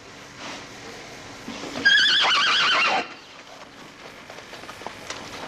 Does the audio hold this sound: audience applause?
no